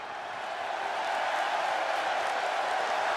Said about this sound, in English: Crowd popping big here for Jamie Hayter